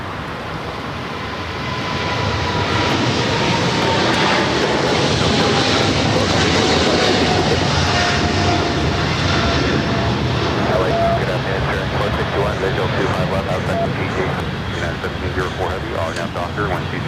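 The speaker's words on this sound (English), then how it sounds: "we're doing that 777 freighter heading down 25 left" Boeing 777 freighter of MSC Air Cargo, operated by Atlas Air, rumbles loudly down runway 25 left, its engine roar swelling after a quieter start and holding strong, with voices talking faintly underneath.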